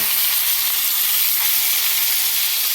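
Food searing in a hot pan gives off a loud, steady sizzle that holds unbroken throughout, with no talking.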